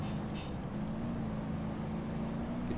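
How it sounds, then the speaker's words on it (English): Simulated turbocharged car engines in a BeamNG.drive crash race, producing a loud, steady droning hum with a strong low tone that holds throughout, with no speech. "You can hear both turbos firing in both cars."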